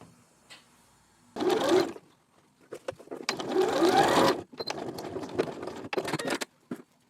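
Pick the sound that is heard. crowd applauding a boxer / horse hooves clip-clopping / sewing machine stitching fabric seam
sewing machine stitching fabric seam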